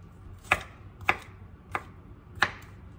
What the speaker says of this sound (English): I'm gonna cut the garlic as well